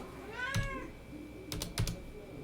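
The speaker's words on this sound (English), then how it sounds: "Hang on a minute, my cat's meowing at me." A house cat gives a short, close meow, followed by a few crisp keyboard taps in a quiet room.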